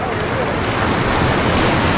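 A waterfall at Salto en Agua Caliente in Chalatenango, El Salvador, roars loud and close, a dense, unbroken rush of falling water that stays constant throughout with no distinct voices.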